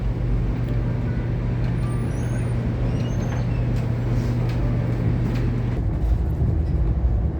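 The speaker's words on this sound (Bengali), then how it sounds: "ট্রেনে করে যাচ্ছি টরন্টো থেকে এডমন্টন" Steady rumble and low hum of a VIA Rail passenger train, The Canadian, travelling from Toronto to Edmonton, heard from inside a carriage as continuous rolling noise with faint squeaks and no talking.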